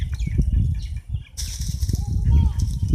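A crow flaps its wings close by in quick, soft bursts of wingbeats, with a brief airy hiss partway through.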